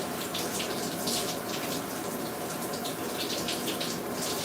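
Shower water running while a beard is rinsed free of dye, a loud steady gushing spray that holds even throughout, with no talk.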